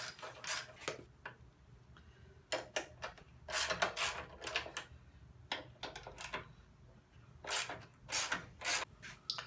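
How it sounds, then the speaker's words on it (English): Quick bursts of metallic ratcheting repeat in clusters with short pauses between as a wrench removes four bolts at the rear of an Indian Scout motorcycle's gas tank, close by and fairly clear against a quiet background. "The next step is to remove the 4 bolts that are at the rear of the gas tank."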